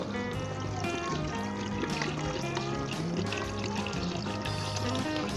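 Water pours steadily into a pressure cooker with mutton and okra, a bubbling, gurgling splash, while a voice hums or speaks faintly beneath the flow.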